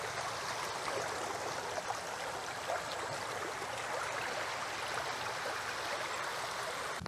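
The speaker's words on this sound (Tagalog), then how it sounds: "May ilog pala dito." A river streams steadily outdoors at a campsite in Natividad, Pangasinan, a constant broadband rush of flowing water with no pauses, fairly close and alone without voices.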